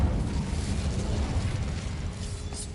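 A fire spell cast in a video game bursts into a roaring, crackling whoosh of flame, a loud sustained rush that slowly fades.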